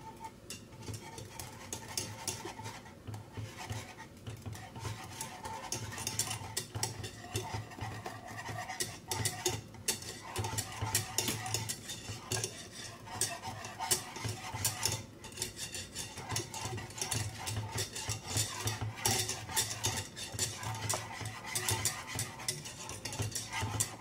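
A spoon stirs 50 g of butter through hot, just-boiled liquid in a pan, making a continuous scraping, clinking rhythm of utensil against metal with steady moderate loudness throughout.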